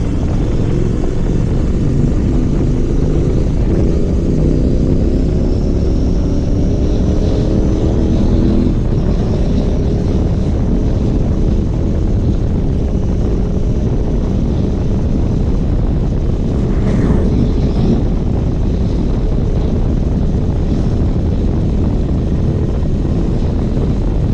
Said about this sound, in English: let me try revving it up and speeding up